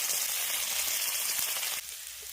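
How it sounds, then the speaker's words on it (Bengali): A spice paste of poppy seed, cumin, green chilli, turmeric and chilli powder frying in a pan gives a dense, steady close sizzle that drops slightly quieter near the end. "এবার মশলাটাকে খুব ভালো করে কষিয়ে নেব"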